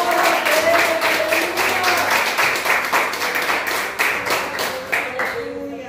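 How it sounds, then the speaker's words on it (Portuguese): Worshippers in a church clap in a rhythmic, fairly loud pattern of distinct beats, with voices and a sustained musical tone underneath that fade near the end. "Pode aplaudir ao Senhor."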